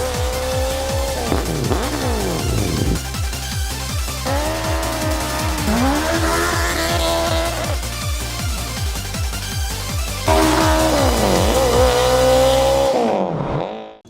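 A Suzuki Swift hatchback with a swapped Hayabusa motorcycle engine drives hard, its high-revving engine climbing repeatedly through quick gear changes, loud and close with a harsh rasping note, then cutting off abruptly at the end.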